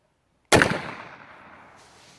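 A single loud, sharp gunshot from a cheap muzzle loader fired at a target 15 yards away, cracking suddenly out of silence and then trailing off in a long, fading outdoor echo.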